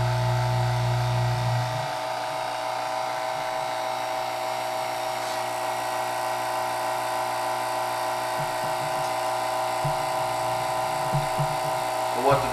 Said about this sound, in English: what the vacuum chamber is doing is it's drawing all that air out of that wood and sucking that cactus juice in to the wood